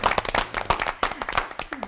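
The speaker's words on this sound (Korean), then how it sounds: "큰 박수 한번" A studio audience applauds in a burst of dense, irregular clapping that stays fairly close and steady throughout, with no talking over it.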